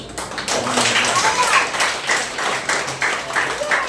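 Church congregation clapping together during a sermon, a fairly steady, moderately loud patter of many hands with rhythmic pulses, and a voice speaking over part of it.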